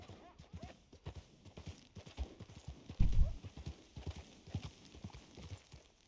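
A horse's hooves clip-clop in a steady trot while it is ridden in Red Dead Redemption 2 Online, with a heavier thud of impact near the middle and faint talk underneath.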